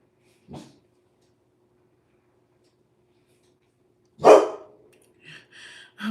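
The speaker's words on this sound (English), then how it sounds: "my dog just is growling" A dog gives a short low growl, then after a long silence lets out one louder bark followed by a couple of faint grumbling growls, near and indoors.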